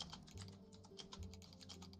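Soft keyboard typing, a steady run of light, fast clicks heard faintly from across a room with no voices over it.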